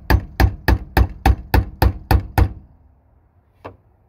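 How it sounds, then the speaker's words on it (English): Nine steady, evenly spaced hammer blows on a chisel, sharp and close, during a fuel pump replacement on a 2009 Toyota Corolla, followed by a pause and one lighter tap. "Let me take the hammer,"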